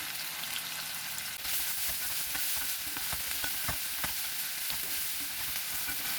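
Onion and poppy seeds frying in a pan, a constant bright sizzle with intermittent scrapes and taps of a spatula, close and steady throughout with no speech.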